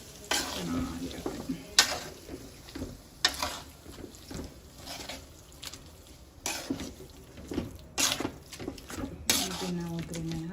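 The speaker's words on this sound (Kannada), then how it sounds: "ಆಲ್ರೆಡಿ ಬಾಡಿಸ್ತೀವಿ, ಬಟ್ ಸುಮ್ಮನೆ ಒಂದ್ಸತಿ ಎಣ್ಣೆ ಹಾಕಿ ಬಾಡಿಸಿದಾಗ" Raw mango chutney roasting in oil in a pan while being stirred, a soft sizzle under repeated scraping and clinking strokes of the spoon, with brief quiet talk at times.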